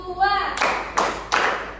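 A classroom of students claps on the teacher's count, three sharp, unified claps in quick succession after a short spoken cue.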